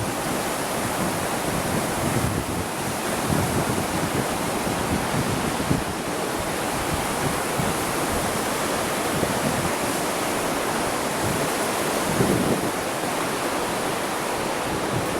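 A rushing mountain river in the Nagar valley of Pakistan roars steadily and loudly throughout, a dense, unbroken wash of turbulent water with no talk over it.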